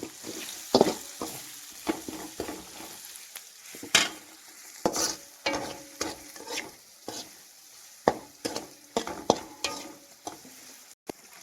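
Ingredients for egg fried rice sizzle in a pan while a utensil stirs and scrapes in irregular strokes and clinks against the metal, close and fairly clear, with no talking.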